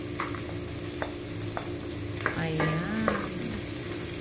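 Garlic sizzles steadily in hot oil in a pan while cooking pancit, with a few scattered clinks of a utensil and faint background sounds, close and continuous, no speech.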